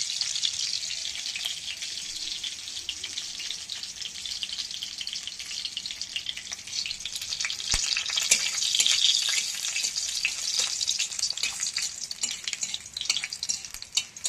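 Garlic frying in a pan for jute-leaf greens gives a steady, moderately close hiss of sizzling oil, continuous with small crackles throughout and no talking.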